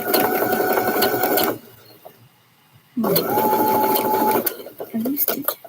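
A sewing machine stitches a scrub top in two loud, steady runs of rapid whirring, separated by a brief pause, with a voice speaking near the end.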